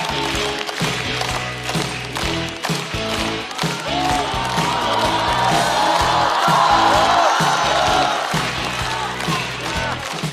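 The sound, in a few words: audience applause and cheering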